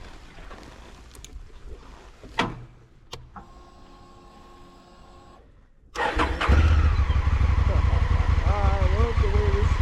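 A motorcycle ridden on a mountain road: quiet wind and scattered knocks at first, then the engine picks up loudly and carries a strong, close drone with wavering revs toward the end.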